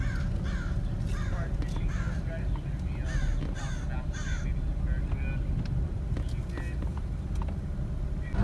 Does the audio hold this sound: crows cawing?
yes